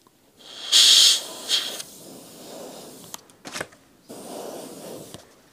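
Airbrush hissing as it sprays transparent paint, with a loud burst near the start, a short second puff, then softer, longer passes and a few brief clicks. Close by, with no talking.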